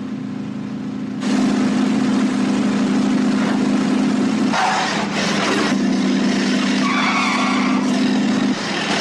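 A runaway car with locking brakes, loud sustained tyre skid screeching over a droning engine, broken by a short gap and then resuming with harsh scraping bursts.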